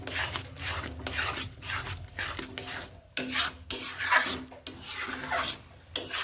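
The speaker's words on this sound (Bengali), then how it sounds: "এটা এইভাবে নাড়তে হবে যাতে না বসে যায়।" Dry semolina is stirred in a pan, giving rhythmic gritty scraping and rasping strokes, close and fairly loud, repeating throughout with brief pauses between passes.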